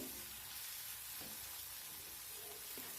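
Finely chopped onion and tomato sizzle steadily in a hot pan as they soften, a constant quiet frying hiss with occasional soft stirring scrapes.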